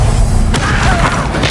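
Descendo spell impact in Hogwarts Legacy: a single loud, heavy boom that lands sharply and then rumbles into a dense, crashing decay.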